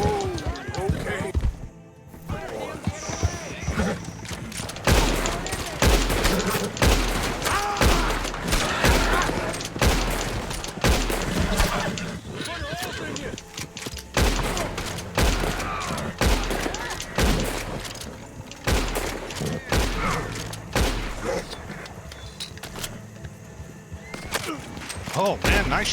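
Repeated gunfire bursts in Red Dead Redemption 2, sharp loud shots scattered over a shootout alongside galloping horse hooves and game music, with someone talking throughout.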